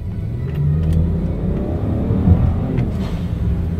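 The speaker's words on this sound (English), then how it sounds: "Blow-off valve." A BMW 335i engine revs close by, its turbo blow-off valve hissing and whooshing between throttle blips, loud and alone with no talk.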